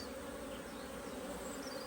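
Honeybees buzzing at a hive in early spring, a steady dense hum of many wings close by with no other sound.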